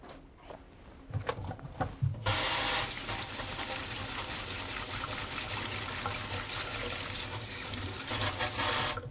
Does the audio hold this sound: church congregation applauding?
no